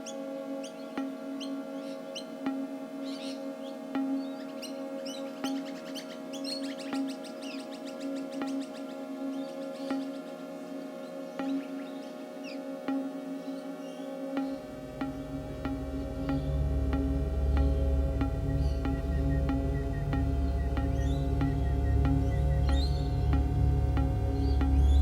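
Recorded outdoor bird calls, chirps and clucks in a sonification piece, first heard fairly clearly, then buried under a rising, loud broadband noise that sweeps in halfway and masks the birdsong to the end.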